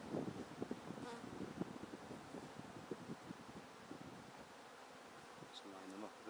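Honeybees buzz at a pagoda hive outdoors, a steady low hum with scattered close passes and light wind rustle; a faint voice comes in near the end.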